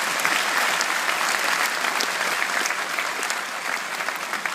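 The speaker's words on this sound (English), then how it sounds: "could we have a big round of applause for the children?" A citizenship ceremony audience in Dublin claps for the children, a dense burst of applause from many hands that holds steady and eases slightly toward the end, with no voices over it.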